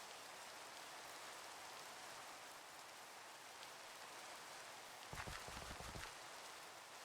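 Steady rain falls in the video game Minecraft (Sevtech Ages), a soft constant hiss with a brief burst of clattering steps near the end.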